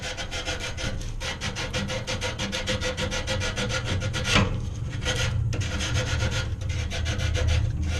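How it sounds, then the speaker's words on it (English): Sandpaper is rubbed back and forth over a GE dryer's wire connector in quick, steady scraping strokes, close and fairly loud, with no talking throughout. "take some sandpaper and just sand that connector down there a little bit"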